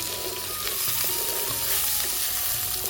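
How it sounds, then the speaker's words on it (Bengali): Figs sizzle in a pan, frying for a village-style fig curry, with a steady crackling hiss, a few stirring scrapes, and a faint background hum. "দিয়ে এবার ভালো করে ভাজবো।"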